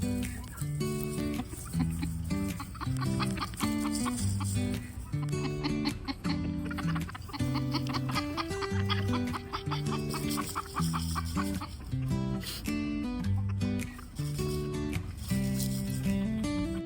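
Five rescued hens from a shelter in Golden, Colorado cluck steadily and closely for the whole stretch, their calls set within a dense, continuous backdrop of layered tonal sound.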